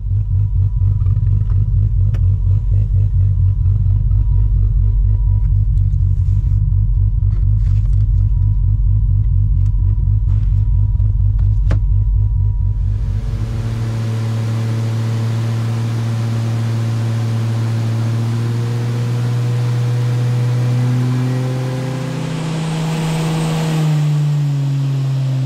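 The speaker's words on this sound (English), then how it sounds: "Block out those awful Barra noises." A Barra engine runs in a Toyota Crown wagon, first a deep, loud, throbbing idle rumble for about thirteen seconds, then a smoother rising and falling engine drone with raspy harmonics as it revs, close by.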